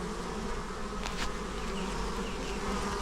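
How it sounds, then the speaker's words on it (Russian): Honeybees at an apiary hive on a warm day make a close, loud, continuous buzz that holds steady throughout, with no voices. "Вот так пчела летает."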